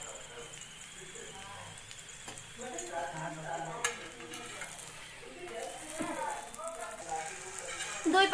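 Soft sizzling of a potato paratha frying in oil on a pan, with occasional utensil scrapes and clinks, while someone talks over it.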